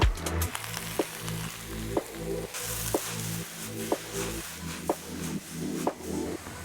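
Strips of oyster mushroom sizzle steadily in a wok with softened onion, a loud continuous frying crackle broken by regular stirring clatters about once a second, with no talking.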